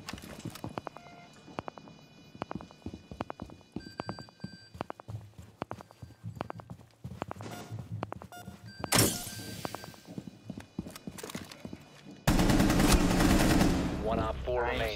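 Gunfire shooting through a wall in a tactical shooter video game: rapid, sharp shots in bursts over footsteps and clatter, ending in louder sustained blasts and explosive noise.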